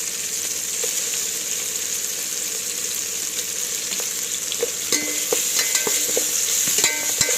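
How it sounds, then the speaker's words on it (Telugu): Ginger garlic paste fries in a pot while being stirred, a loud continuous sizzle with frequent spoon clicks and scrapes growing busier toward the end. "ఒక స్పూన్ అల్లం వెల్లుల్లి పేస్ట్ వేసుకుని మంచిగా ఒకసారి మళ్ళీ కలిసేటట్టు తిప్పండి."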